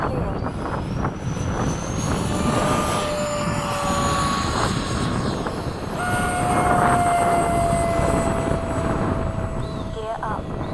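A Freewing 70mm F-35 RC jet takes off, its ducted-fan whine rising loud and steady with sliding pitch tones, while people talk nearby over the roar.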